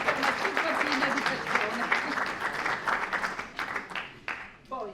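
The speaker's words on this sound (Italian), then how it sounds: "Farei un applauso" An audience at an Italian amateur short-theatre festival applauds in a steady, dense wash of clapping that lasts several seconds before thinning out, with a voice speaking over it.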